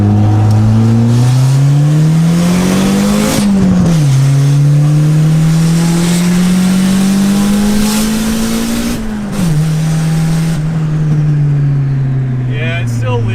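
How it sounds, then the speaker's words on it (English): Honda Civic fitted with an eBay intercooler idles steadily, its engine rising and falling through a couple of revs, loud and close throughout, with no one talking over it. "I'm just going to fire it up, let it warm up, and then we'll take it for a quick spin."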